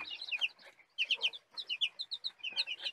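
Small crossbred chickens chirp and peep in quick, high bursts, several calling close together in short repeated clusters.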